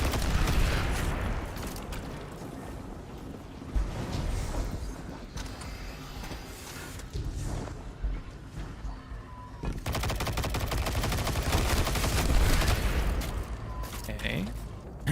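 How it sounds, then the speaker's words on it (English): Turret fire in Destiny 2 rattles in rapid bursts of gunshots, building into a dense, sustained volley toward the end, with a person talking over it. "Like, I hear a turret."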